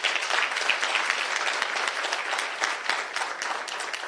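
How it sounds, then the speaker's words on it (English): Steady applause from a conference audience at a Women's Day celebration, thanking the organizing committee; dense, even clapping that holds for the full few seconds with no talk over it. "I think you deserve a round of applause."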